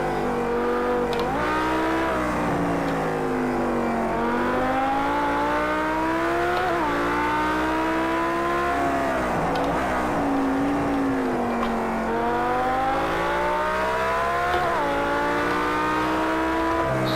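Lamborghini Huracan engine accelerating hard on the road, loud close revs climbing through repeated gear changes in a rising-and-falling pattern, with constant road noise and no talk.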